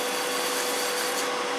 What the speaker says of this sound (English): I'm going to take my sandpaper like this and I'm going to start sanding this one side